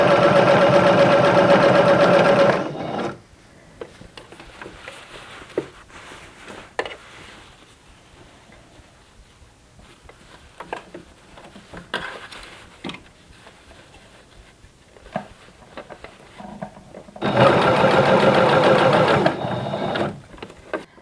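A home sewing machine running in two loud, steady bursts as it sews elastic onto leotard fabric, with a quieter stretch of handling noises between them and no talking.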